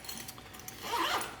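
The zipper on the main compartment of an Aer City Sling bag is pulled, giving a short, close, ratcheting zip that grows louder toward the end.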